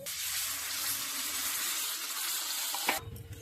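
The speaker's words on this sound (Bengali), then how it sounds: "এবার আমি জল দিয়ে দেবো এর মধ্যে" Water is poured into a pan of spiced fish, cauliflower and potato curry, a steady close rushing pour that stops abruptly, followed by a brief sizzling bubble.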